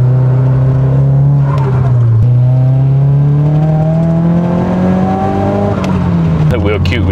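A Nissan 180SX engine revs up hard, its pitch climbing steadily and loud and close, with a brief dip before rising again.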